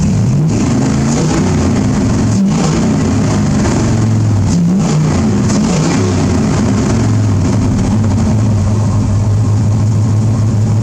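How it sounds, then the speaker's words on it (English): A carbureted V8 swapped into a Chevrolet S-10 idles loudly and continuously up close, a deep rumbling engine note with slight unevenness throughout and no speech. "So it idles good once you get it running."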